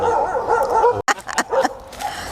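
A dog in a garden barks and yips in a quick burst of several sharp barks, close and loud, after a stretch of whining or whimpering background sound.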